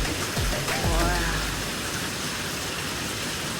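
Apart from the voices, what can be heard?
heavy rain during a big storm in Kihei, Maui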